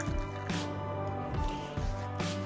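Hot water from a kettle is poured into a cup of coffee mixed with creatine, giving soft gurgling splashes and drips in a few short bursts, close and quiet, with no talking.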